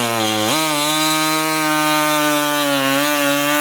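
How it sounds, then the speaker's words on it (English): Small reciprocating saw cutting through a plastic air dam on a 2019 vehicle: a loud, steady motor buzz that jumps in pitch once early on, then holds a constant whine with a rough cutting rasp beneath. "We've got a small reciprocating saw we're going to be using."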